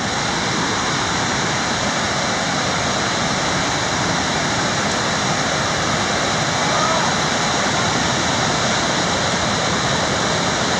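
Loud, steady roar of whitewater river rapids at a paddleboard play spot, continuous broadband rushing water close by with no breaks throughout.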